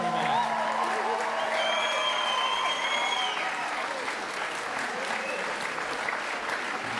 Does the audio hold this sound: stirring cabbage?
no